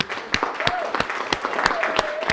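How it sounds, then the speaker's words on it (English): Wedding guests clap for the bridesmaids during the reception speeches, a scattered round of sharp, distinct claps that gradually builds in density, with faint talk underneath. "a round of applause for the bridesmaids"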